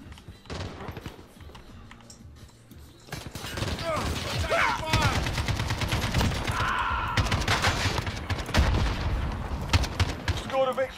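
Rapid bursts of gunfire crackle through a hardcore domination match in the video game Modern Warfare, starting sparse then building into dense automatic fusillades, with voices briefly talking over the action.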